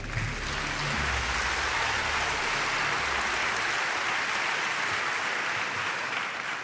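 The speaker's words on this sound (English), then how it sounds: "Big applause for the three of you." A large audience applauds three guests welcomed onto the stage at an environmental activists event, producing a dense, steady wash of clapping that holds evenly at full strength throughout, with no talk over it.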